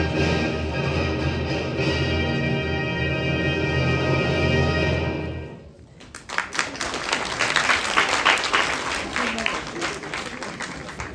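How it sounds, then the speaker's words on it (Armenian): Tonal music plays for about five seconds and then cuts off, giving way to a burst of audience applause for a theatre director at an awards ceremony of a children's theatre festival, with clapping sustained and fairly close. "Մեր ծափողությունները քեզ Արտուր"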